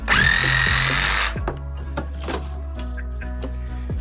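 A Milwaukee reciprocating saw buzzes loudly for just over a second cutting a small tree branch, then cuts off, followed by quieter knocks, rustles and a low motor hum.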